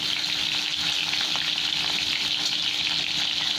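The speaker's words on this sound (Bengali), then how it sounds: "এবার ডিমটাকে উল্টে উল্টে ভালো করে ভেজে নেব।" Boiled eggs fry in a kadai with salt, giving a steady, close sizzle that runs unbroken throughout with no talking.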